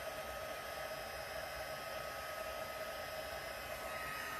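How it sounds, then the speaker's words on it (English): A heat tool melts embossing powder on textured designer paper, giving off a steady, loud blower hiss and whir that holds unbroken throughout with no voices. "bear with me with the heat tool noise for about 5 seconds here, I'm going to go ahead and emboss this"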